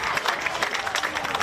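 Crowd at a QAFL Australian rules football match, Wilston Grange versus Morningside, cheering and clapping right after a goal, a dense sustained roar with a commentator's voice over it.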